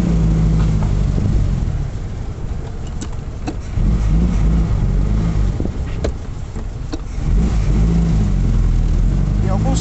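A Puma sports car drives with its convertible top open, its engine a steady low drone with shifting revs and rushing wind, while someone talks over the driving noise at times.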